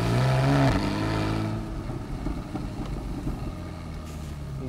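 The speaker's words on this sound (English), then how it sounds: "And the burble you get in the low speeds, having sports and sports exhaust turned on." A Porsche 911 Carrera S (991.1) convertible with sports exhaust engaged burbles at low speed, a deep rumble that starts loud then settles into an uneven, crackling low idle-like growl, close and without talk.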